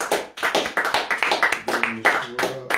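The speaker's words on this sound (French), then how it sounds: "Alléluia, applaudissons pour Jésus." A church congregation claps in a quick, even rhythm, loud and close, while voices sing or chant over the clapping.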